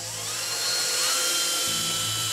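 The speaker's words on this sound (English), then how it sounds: "we're running 1 5/8 drywall screws in through the bottom of the plywood" A power drill whines steadily as it drives 1 5/8-inch drywall screws up through the bottom of plywood, one continuous high-pitched run lasting a couple of seconds, loud and close, with no talking.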